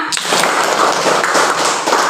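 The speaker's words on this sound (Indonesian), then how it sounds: "Tepuk tangan dulu semua" Schoolchildren in a classroom clapping their hands together, a dense, steady patter of many claps filling the whole stretch at close range.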